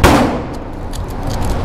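A single loud, sharp gunshot cracks at an outdoor shooting range, followed by a short reverberant tail as the report fades.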